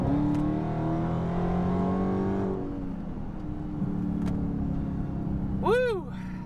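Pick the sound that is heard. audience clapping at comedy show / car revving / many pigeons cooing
car revving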